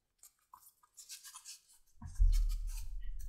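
Leather edges of a handmade dog leash are scraped with an edge beveler in short, light strokes, followed by a louder, steady low rumble of handling.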